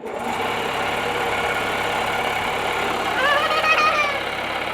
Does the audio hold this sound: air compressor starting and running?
yes